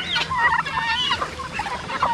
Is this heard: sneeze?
no